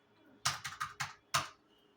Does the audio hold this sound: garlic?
no